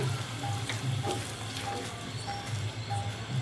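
A potato and sago mixture pressed flat on a hot tawa gives a steady, fairly loud sizzle and crackle, continuous throughout with faint scraping ticks.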